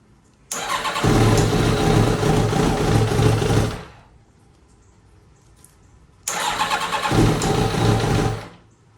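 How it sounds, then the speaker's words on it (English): Kawasaki Ninja ZX7R motorcycle engine running with its idle set too low: two loud, close bursts of rough engine running, each lasting a few seconds and then cutting off into near silence. "The idle is a little too low. Need to turn that idle up just a little bit."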